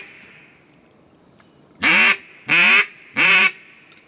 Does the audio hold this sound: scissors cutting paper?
no